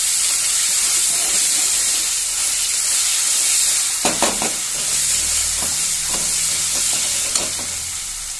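Ground garlic, chilli and salt hit a hot pan of stinging nettle greens for Himachali saag, giving a constant loud sizzle and hiss, joined partway through by the scrape and clatter of stirring.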